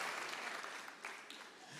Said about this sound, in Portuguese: Uma salva de palmas por irmão